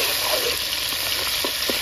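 Ginger garlic paste fries with onions in a pan for a country chicken rogan josh. A dense, loud, continuous sizzle fills the clip, with a few soft stirring scrapes toward the end.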